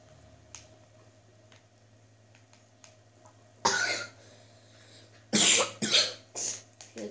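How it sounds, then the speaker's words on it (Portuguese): A few harsh coughs close by after a quiet stretch, one burst followed by a quick cluster of three or four more. "Chega a tossir aqui."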